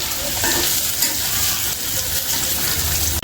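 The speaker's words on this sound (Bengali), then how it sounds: "এখানে আমাদের ঢেঁড়স ভাজি হয়ে গেছে" Okra frying in a pan, a dense, steady sizzle with rough stirring texture, close and continuous, with no talk.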